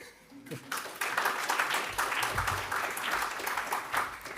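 Dutch symposium audience applauding at the close of a presentation about a villa landscape in Voerendaal, a steady dense patter of claps sustained throughout after a brief quiet start.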